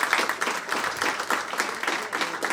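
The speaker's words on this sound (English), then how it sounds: "So can I have a round of applause for all of our elected officials?" A crowd at a city and county State of the City address claps, a dense, lively round of applause that swells and dips slightly throughout.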